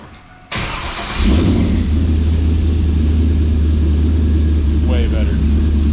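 A Chevrolet Camaro SS V8 with a new exhaust cranks, fires up and settles into a deep, loud, rumbling idle; a voice speaks briefly toward the end.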